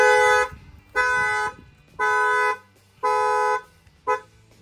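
A 2023 Dodge Challenger factory alarm, triggered by its shock sensor when a tire is struck, blares its horn in five evenly spaced honks, each about half a second long, with the last one cut shorter.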